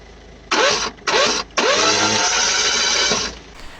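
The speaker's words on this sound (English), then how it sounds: "So let's add a quick clip here of the engine of the car." A Peugeot 206 engine with a timing belt fault cranks without catching, two short starter bursts followed by a longer churning crank that trails off, close and loud with no talk.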